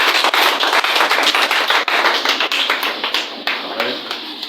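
A church congregation claps and applauds in praise during a French-language worship service, a dense, steady roar of many hands close by that carries on for several seconds with no talk over it.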